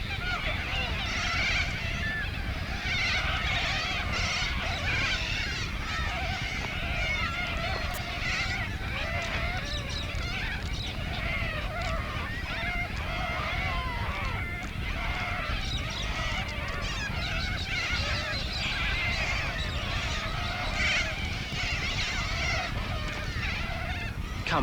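A large flock of corellas screeches and squawks continuously in a dense, overlapping chorus, loud and unbroken for the whole stretch.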